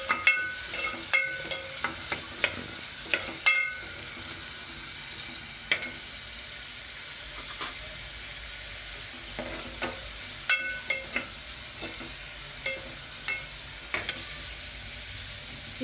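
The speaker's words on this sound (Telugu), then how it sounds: "ఆయిల్ హీట్ అయ్యాక నేను ఆనియన్స్ వేస్తున్నా" Onions frying in hot oil for a spicy mutton curry, a steady bright sizzle running throughout with frequent sharp clicks and scrapes of stirring, close and moderately loud, no voices.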